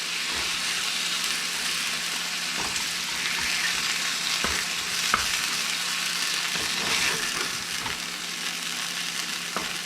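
Sweet potato greens fry in a pan with chicken and bacon, giving a steady, close sizzle with occasional crackles and pops throughout, with no one talking.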